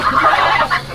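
Geese honking close by in a continuous, overlapping clamor of nasal calls, loud and busy throughout the short moment.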